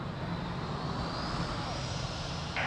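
Aircraft taking off at Lisbon Airport, a steady loud engine roar that holds throughout with a rising whine, with no voices over it.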